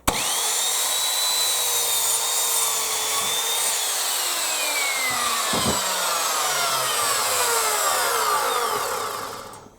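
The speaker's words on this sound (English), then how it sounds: "So I'm going to cut these off 1 meter lengths" Timber boards being sawn into one-meter lengths for a shed extension floor: a continuous, loud rasping cut runs nearly ten seconds without pause, tapering off as the board is cut through.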